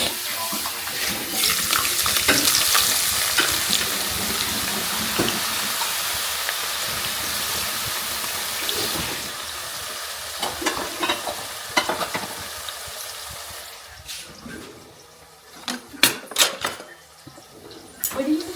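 Frying and stirring for chicken biryani in a home kitchen: steady sizzling oil with scraping stirs and a few sharp utensil clanks, continuous and close, with a voice speaking briefly over it.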